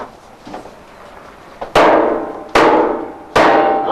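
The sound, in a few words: hammer knocking the bung out of a bourbon barrel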